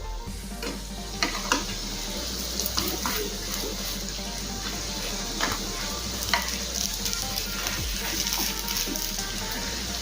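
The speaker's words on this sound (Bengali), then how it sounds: "এখন এপিট উল্টে ভেজে নেবো আর গ্যাসের ফ্লেম একদম কমিয়ে রেখে ভেজে নিতে হবে" Bottle gourd leaf fritters fry in oil over a very low flame, giving a soft, steady background sizzle with occasional light clicks as they are turned.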